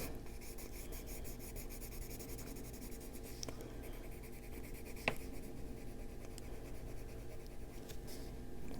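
Colored pencil strokes on paper while blending darker blue into lighter blue on a frog coloring page, a steady soft scratchy rubbing that runs continuously and close, with a sharper tap or two along the way.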